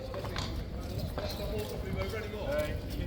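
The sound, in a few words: horses' hooves clip-clopping at King's Guard competition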